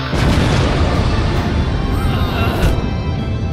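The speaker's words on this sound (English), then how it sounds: "Explosion!" Explosion in the Trials Evolution motorbike video game: a loud, dense boom that rumbles on for several seconds and sits close and full, under lively commentary from players talking.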